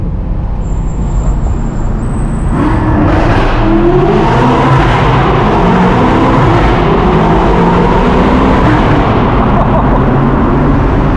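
A 1000HP BMW M8 Competition accelerating hard up through its gears, the loud exhaust rising and dropping in steps at each shift, heard close from inside the car, with a brief whistle-like tone near the start.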